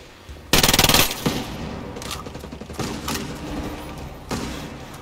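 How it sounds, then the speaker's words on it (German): Unsuppressed gunfire in the shooter game Ghost Recon Breakpoint: a loud rapid automatic burst opens the clip, followed by several more heavy, sharp shots at irregular intervals, ringing and close. "Boah, deine Wumme macht aber fürchterlichen Lärm nur."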